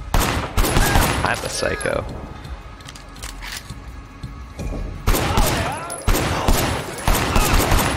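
Rapid bursts of gunfire in the video game Sleeping Dogs: Definitive Edition, loud and close, firing in clusters across the clip and pausing midway, with someone talking over the shots.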